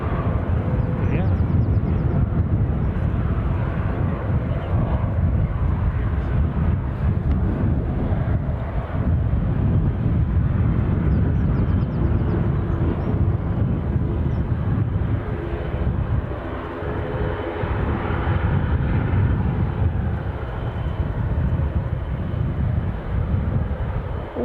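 An ATR 42 turboprop at Edinburgh airport produces a continuous, loud, broad engine roar mixed with wind buffeting, with no break for the whole stretch.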